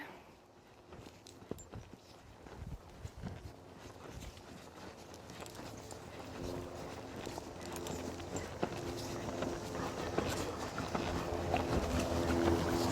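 A horse walks on a loose rein around a riding ring while warming up. Its hooves give soft, irregular clip-clop steps against a steadily rising background of outdoor noise, with no talking.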